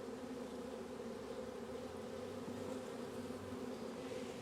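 Honey bees swarm around an opened hive set beside another colony that is being robbed, filling the air with a dense, unbroken, close-up drone and no voices.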